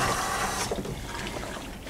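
Hot water from a boiled kettle sloshes and pours while rinsing out a vessel during cider brewing, a loud close splashing rush that eases after the first moment.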